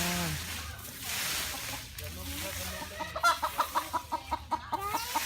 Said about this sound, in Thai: ไก่อยู่ไหนคะ